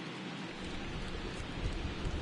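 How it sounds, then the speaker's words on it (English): Steady rain falling over an open baseball stadium in Atlanta during a World Series game between the Astros and Braves, a dense, continuous hiss of drops with no speech. "As the rain continues to fall here in Atlanta."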